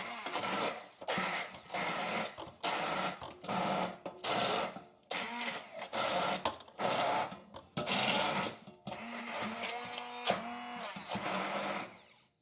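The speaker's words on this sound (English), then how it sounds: "I'm just going to give those a little blend." A blender purees peas and leek in broth, running in loud, repeated bursts with brief pauses between pulses, the motor whine rising and falling as it churns.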